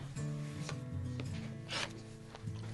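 Fabric for a quilt has its selvage edge cut off in a few short, close rasping strokes over a low steady background hum.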